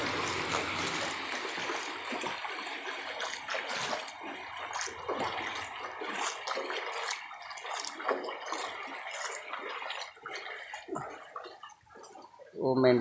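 Floodwater flowing and gurgling through a flooded street and gateway in Silchar, a steady moderate rush with splashy bursts, while someone talks over it throughout.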